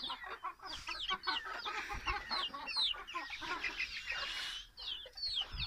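Several chickens on a farm cluck and chatter in quick overlapping bursts, fairly close and moderately loud, continuing throughout with no voices.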